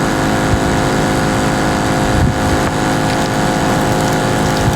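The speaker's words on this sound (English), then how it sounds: "fire up the pump, and flush this engine out" A Milwaukee M18 Switch Tank water pump flushing an engine runs steadily with a loud, constant mechanical drone and churning water, unbroken from start to finish.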